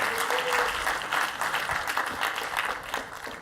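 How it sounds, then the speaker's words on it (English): Audience applause at a tech talk on cloud native infrastructure, a steady dense wash of clapping from a crowd that holds for several seconds and tapers slightly at the end. "And can we give just a big round of applause for Justin, everyone?"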